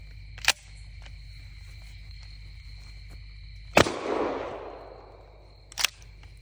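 Shotgun loaded with 00 buckshot firing at a military-grade bulletproof vest: three sharp, loud blasts spaced seconds apart, the middle one followed by a rushing, ringing decay.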